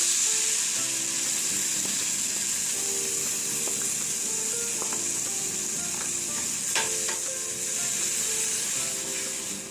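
Tomato puree hits flour sautéed for about thirty seconds in a pot for tomato soup, giving a steady, loud sizzle and frying hiss throughout, with faint stirring clicks and scrapes.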